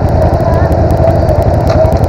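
A Pro Tork TR100F mini motorcycle engine runs loud and close, a steady buzzing drone that rises slightly as it is revved, with a voice calling out over it.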